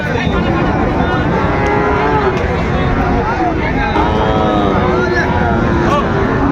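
Sahiwal bull calves and cattle mooing repeatedly, long low calls rising over constant crowd chatter and a busy, noisy livestock market din in Dinajpur.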